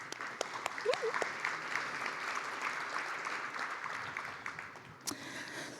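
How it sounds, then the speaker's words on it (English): Enthusiastic crowd applause at a democracy summit in Dayton, a continuous wash of clapping with a few louder nearby claps standing out and a brief whoop or voice near the end. "Clap it up for being here."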